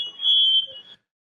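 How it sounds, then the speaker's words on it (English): A smoke alarm gives a single shrill, steady electronic beep lasting under a second, caught on a doorbell camera, then stops into silence. "smoke alarms going off"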